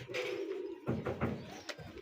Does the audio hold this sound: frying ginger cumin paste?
no